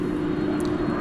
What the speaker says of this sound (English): This plane is going to Louisville.